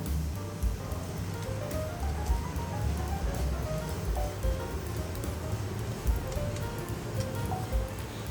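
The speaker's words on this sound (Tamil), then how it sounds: "கொஞ்சம் எண்ணெய் ஊற்றி கடுகு உளுத்தம்பருப்பு சேர்த்து பொரிய விடணும்." Mustard seeds and urad dal sputter in hot oil while tempering for fenugreek rasam, producing a steady, dense crackle of tiny pops throughout without any talk.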